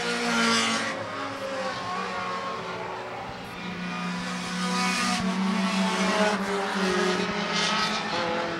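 Thunder 4 mini race cars roar around a dirt or asphalt oval on the final lap of a qualifier at a short-track double-header, a continuous loud engine drone with rising and falling passes and no talk.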